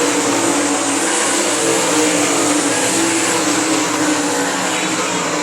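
Continuous loud roar of sprint cars racing on the I-96 Speedway, engines droning steadily and close without a break, and no voices over it.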